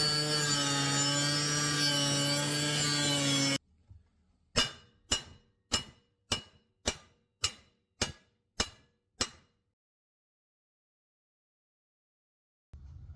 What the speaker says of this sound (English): I'm just going to clean this slag off of here